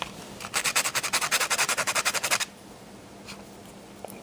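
A giant pumpkin seed's hard outer shell is sanded by hand in a quick run of about eighteen short, even rasping strokes. The strokes last roughly two seconds, followed by quiet with a faint click.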